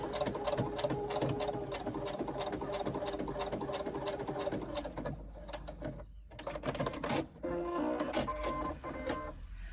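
A sewing machine runs a basting stitch close to the fabric edge while making connector tabs for pleats, a steady close mechanical whir that briefly pauses near the middle and then resumes.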